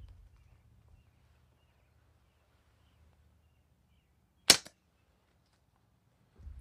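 A board cut slingshot shoots once at a steel target about 7 yards away, giving a single sharp, loud crack with a quick metallic smack in a quiet outdoor setting, with faint low rumble before it.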